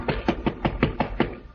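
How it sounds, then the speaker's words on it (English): Six steady knocks on a door, evenly spaced and close, sharp wooden raps in a quiet room with nobody speaking. "there is a knock on the door"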